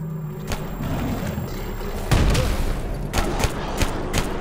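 Grenade explosion followed by scattered gunfire in the video game Stalker Anomaly, with a heavy low thump near the middle and several sharp shots before and after, loud against a steady background.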